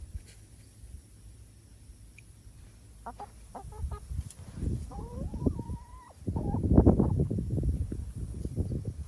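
Chickens in a coop: soft scattered clucks and a drawn-out call build into a louder cluster of clucking toward the end, close but fairly quiet over a low background rumble.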